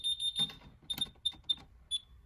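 Short electronic beeps from an ADT alarm keypad while the alarm is being reset, a few quick tones close up in a quiet room, then silence.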